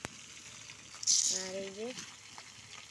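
Tengra fish frying in a pan, with a short hiss of sizzling bursting in near the start and fading back under a voice talking over the cooking.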